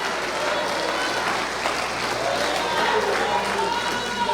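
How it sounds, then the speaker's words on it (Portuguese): A church congregation claps steadily through a worship service while a voice speaks over the sustained applause. "Dê uma salva de palmas ao Rei da Glória"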